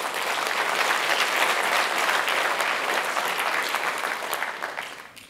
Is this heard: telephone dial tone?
no